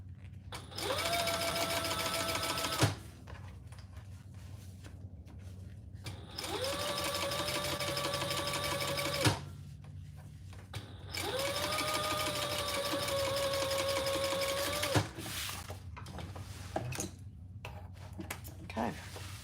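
A sewing machine stitches fabric for a handbag project in three steady runs of several seconds each, separated by brief pauses with small clicks and handling noises, close and moderately loud, with no talk.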